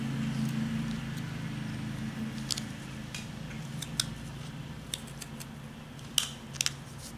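A knife whittling a wooden gnome, with short crisp cutting and scraping strokes at close range, scattered irregularly over a low steady background hum.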